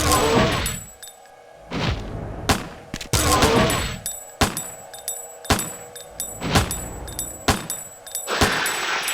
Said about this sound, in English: I didn't keep count of the bullets that I just shot